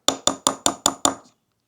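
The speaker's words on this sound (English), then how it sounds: "sometimes it's nice to have a little hammer. You can just tap, tap, tap" Small hammer tapping on knife handle scales during bladesmithing, six crisp, evenly spaced light taps close up, each ringing briefly before fading into silence.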